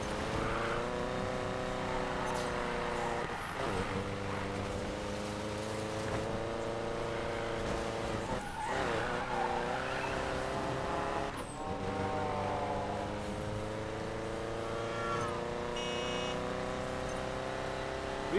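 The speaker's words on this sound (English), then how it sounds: "Full speed, 140 in a Volkswagen Beetle." A Volkswagen Beetle races flat out at about 140 in Need for Speed Payback, its engine a steady, loud drone with rising pitch sweeps between gear shifts across the stretch.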